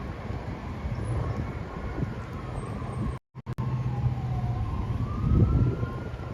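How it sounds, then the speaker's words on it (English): Emergency vehicle sirens heard on a city street, a faint wailing tone rising and falling at a distance over steady traffic noise, with a brief dropout midway. "Some sirens."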